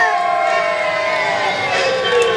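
Performers on stage at a Land of Make Believe Middle Earth show let out a loud, sustained group cheer, with many voices shouting and whooping together over a couple of seconds.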